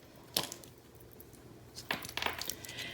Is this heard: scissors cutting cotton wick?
yes